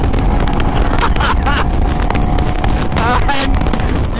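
A KTM Duke 390 Gen 3 motorcycle engine revs near the red line above 8000 RPM while cruising on a highway, giving a loud, steady roar heavily buffeted by wind noise, with a voice talking over it.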